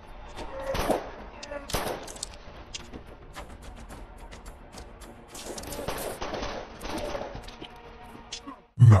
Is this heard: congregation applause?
no